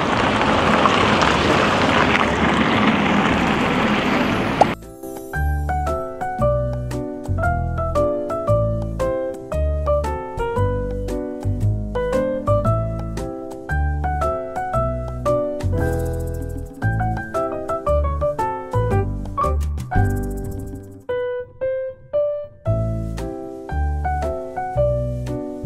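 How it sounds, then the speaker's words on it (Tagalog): Strong wind roars across the microphone on an Arctic road trip near Tromsø among Norway's fjords, a loud broadband rush for the first few seconds before music takes over and covers the rest. "Grabe, ang hangin."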